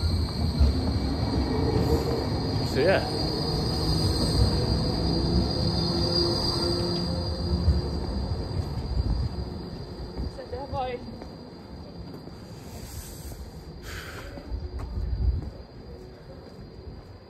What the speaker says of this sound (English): this tram going past.